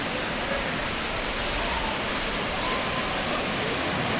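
Water rushes at an artificial surf wave in Rotterdam in a loud, steady, broadband roar, close and unbroken throughout.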